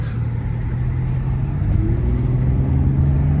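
Old school car driving after brake work, a steady mid engine rumble with slight revving, fairly close and alone.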